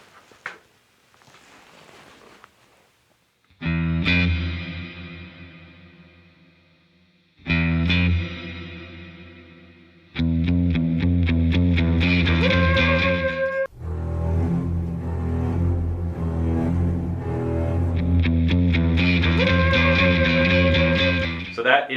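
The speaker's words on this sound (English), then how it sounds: "I need a little bit more reverb for this." An electric guitar plays a slow, ominous two-note minor-second figure like the Jaws theme, heavy with reverb and distortion, notes ringing and washing into each other before building to sustained chords.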